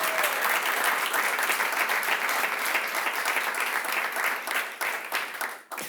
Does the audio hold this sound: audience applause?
yes